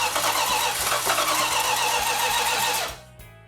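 A Dodge Demon 340 Six Pack V8 cranks steadily on the starter for about three seconds without firing, a dense mechanical churn close to the microphone that cuts off abruptly.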